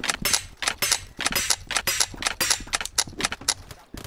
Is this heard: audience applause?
no